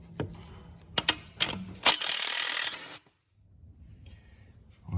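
A hand ratchet works 1/2-inch nuts off a bracket on a 7.3 Powerstroke engine, sounding as several short clicking bursts followed by a longer steady run of ratcheting, then quiet handling noise.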